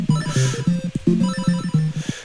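Chiptune-style phone ringing from the Link's Awakening video game, a repeating electronic two-tone trill with short gaps, loud and alone.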